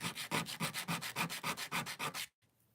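Wood parts rubbed with sandpaper in about eleven steady, loud back-and-forth strokes, close up and alone, ending abruptly in near silence.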